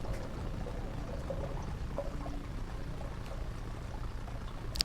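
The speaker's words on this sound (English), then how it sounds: "We're going to flush the toilet." Toilet flushing through plastic drain piping, a faint, steady pouring rush of water that continues evenly without pause.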